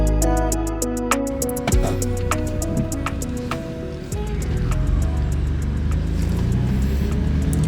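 A BMW F80 M3 fitted with KW V3 coilovers drives along on a test drive, with a loud, steady engine drone and road rumble heard from inside the car and a shifting tone as it accelerates.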